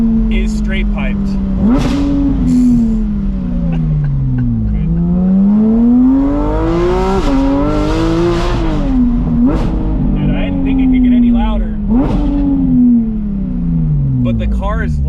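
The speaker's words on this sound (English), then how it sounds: "the car is louder than before, pitch is a little bit deeper, and the sound is even cleaner" A loud straight-piped Porsche GT4 RS exhaust with no catalytic converter revs repeatedly, the engine note sweeping up and down through several gear changes with sharp crackles between.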